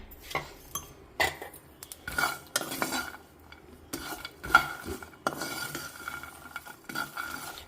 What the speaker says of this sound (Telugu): నువ్వులు బాగా చిట అనే వరకు వేయించాలన్నమాట